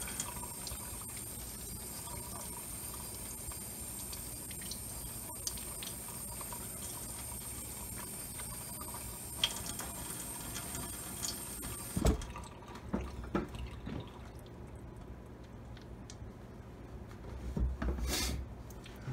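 Small metal vape parts from a SMOK Resa Stick being rinsed in soapy water, heard as close, quiet rubbing, trickling and dripping, with brief splashy handling toward the end.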